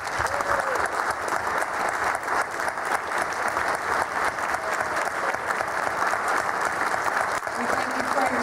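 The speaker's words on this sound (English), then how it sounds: "Would you please stand so we can give you a round of applause?" Sustained applause from a large audience, steady and loud throughout, with no talking over it.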